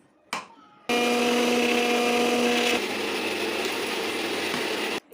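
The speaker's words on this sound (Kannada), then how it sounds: "ಬೆಳ್ಳುಳ್ಳಿ ಮತ್ತು ಕೊತ್ತಂಬರಿ ಪೇಸ್ಟ್ ಮಾಡ್ಕೊಳತ್ತೀನಿ ನೋಡಿರಿ ಫ್ರೈಗೆ" A mixer grinder whirs loudly and steadily as it grinds a garlic and coriander paste, starting after a brief click, with the pitch dropping midway and then cutting off abruptly.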